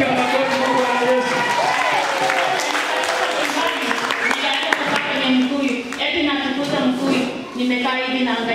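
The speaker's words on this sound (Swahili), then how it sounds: "Piga makofi kwa Bwana Yesu" A church congregation clapping for Jesus, a loud, continuous wash of crowd applause with a voice carrying over it throughout.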